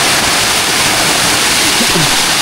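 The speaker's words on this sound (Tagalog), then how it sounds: "Nagtutuluan na yung katas ng bundok na nakapaligid. Napakalakas. Lakas ng pressure." Water from the surrounding mountain pours down strongly under high pressure, a loud, steady rushing roar like a waterfall that fills the whole stretch without a break.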